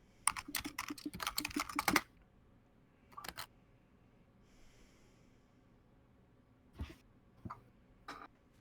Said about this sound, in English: I will type it out in party notes